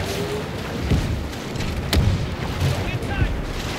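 Blaster fire in a Star Wars video game: several sharp shots and thumps scattered through a busy battle din, with a player talking over it.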